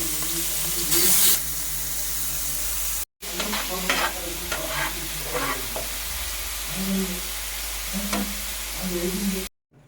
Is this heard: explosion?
no